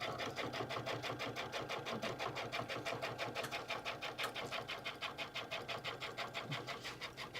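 A sewing machine basting a messenger bag runs steadily, with a fast and even rhythmic needle chatter up close and no pauses.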